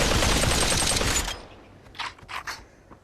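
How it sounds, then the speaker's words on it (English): AK rifle in the VR shooter Population One firing a rapid, loud burst for just over a second, then falling to quiet with a few faint scrapes and clicks. "This AK is a weapon with a little bit of recoil"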